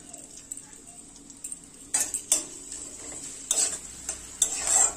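Chopped onion, chili and garlic paste hit hot oil in a village kitchen, giving bursts of sizzling and stirring with a few clinks of a utensil against the pan, growing louder toward the end.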